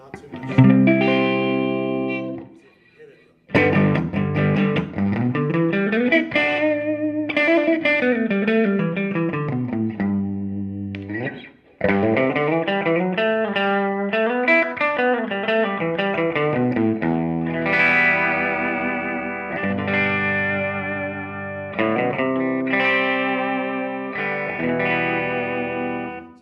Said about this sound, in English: Starting to get a little bit of hair on that, a little bit of overdrive, but not too much.